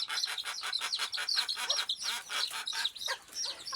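Young chicks chirp in a rapid, shrill chorus inside a netted pen, overlapping high peeps repeating close by with no voices.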